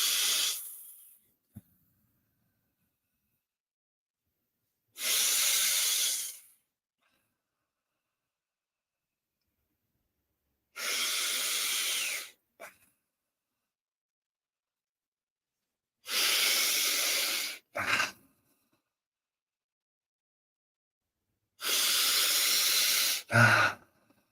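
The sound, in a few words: soft sighing breaths in through nose, out through mouth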